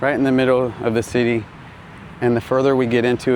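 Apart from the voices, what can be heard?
None of the usual background noises is heard.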